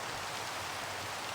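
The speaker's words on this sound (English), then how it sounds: "since it's nighttime and raining" Steady rain falls at night in the video game Minecraft Bedrock, a continuous fine hiss of drops with no breaks, soft and even throughout.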